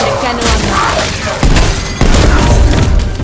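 Loud, heavy hand cannon gunshots boom out in a couple of sharp blasts amid dense, noisy zombie action in Call of Duty: Black Ops Cold War.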